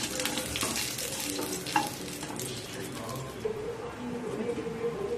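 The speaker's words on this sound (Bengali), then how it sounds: "একটু নাড়াচাড়া করে ভাজা ভাজা করে নেব।" Green chilies and black mustard seeds frying in oil while being stirred, a crackling sizzle that fades as a spoon scrapes the pan, with birds cooing faintly in the background.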